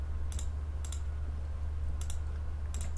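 Computer mouse clicks while an animation program runs, several sharp, quick paired clicks spaced apart over a steady low hum, close and fairly faint, with no talking.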